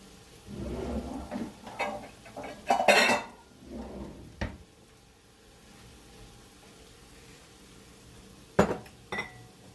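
A bowl is moved around a kitchen with several clinks and clatters of dishes and cutlery in short bursts, then a quiet stretch before two more sharp knocks near the end.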